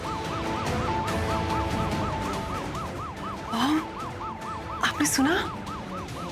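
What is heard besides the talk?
police siren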